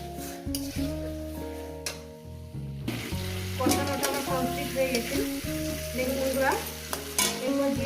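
Potato and pointed gourd curry sautéed and stirred in a pan, with a steady sizzle and repeated scraping strokes of a spoon, close and fairly loud, no talking.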